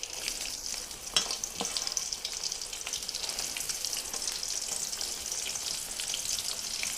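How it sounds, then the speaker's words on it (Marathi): Finely chopped onion frying in oil, a steady close crackling sizzle with a few brief stirring knocks near the start. "तर हा कांदा इथं भाजून होतोय"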